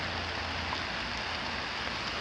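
Steady rain falling outdoors on a residential lot, a dense, even hiss throughout with no gaps and no voices.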